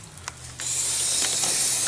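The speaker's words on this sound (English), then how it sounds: "get your spray can, your rust proofing can, obviously depending on where you live, and you're going to want to just spray that area" Rust-proofing spray from an aerosol can hisses into a Mercedes R129 car door, starting after a few faint clicks and continuing as a loud, steady, close spray.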